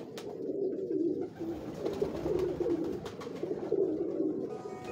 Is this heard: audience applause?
no